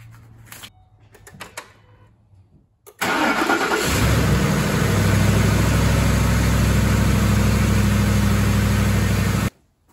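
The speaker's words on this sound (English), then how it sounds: "I like to start the engine up, let the oil pump through." A Ford 5.4 V8 cranks and fires up, then settles into a steady, loud, close idle that runs for several seconds before cutting off, after a few quiet handling noises beforehand.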